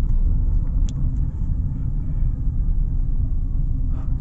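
A car driven by a beginner on a practice drive gives a steady low engine and road rumble throughout, loud and continuous, with no talking.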